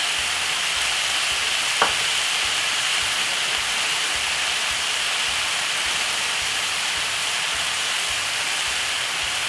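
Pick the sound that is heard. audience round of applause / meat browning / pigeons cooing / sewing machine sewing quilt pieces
meat browning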